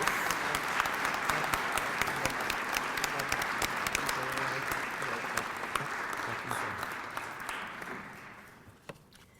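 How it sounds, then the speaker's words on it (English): A luncheon crowd gives sustained applause for two honorees at an Albanian Independence centennial event, dense steady clapping throughout that thins and fades toward the end. "I would like to ask all of you to join me in a round of applause for Joe and Shirley"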